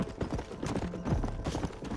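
Horse hooves pound in a rapid galloping rhythm in the video game Red Dead Redemption, close and dense, with a low whinny-like swell near the middle and no talking.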